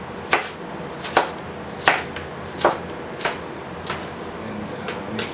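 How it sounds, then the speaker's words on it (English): Beef being chopped into pieces with a knife for sisig, seven evenly spaced sharp chops on a cutting board, close and clear with no voices over a faint background hum. "And just cut them in pieces."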